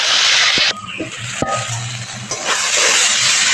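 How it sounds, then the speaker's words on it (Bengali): Chopped tomatoes and green chillies go into a pan of fried onions with salt and turmeric, giving a loud steady sizzle with a few sharp stirring clatters. "এবার টমেটোটা ভেজে নেব"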